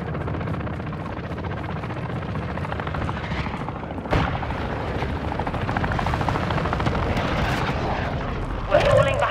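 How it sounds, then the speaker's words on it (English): Airstrike explosions in Call of Duty Modern Warfare II Warzone: a sustained, heavy rumbling barrage with helicopter-like beating, a sharp blast near the midpoint, and a brief burst at the end. "Friendly airstrike in the AO."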